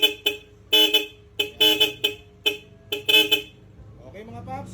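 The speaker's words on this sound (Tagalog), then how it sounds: "Then, okay, Seger horn." An aftermarket Seger horn on a Yamaha Aerox V1 scooter blares in a rapid string of loud, close honks of varying length, ending in a brief quieter stretch with a voice.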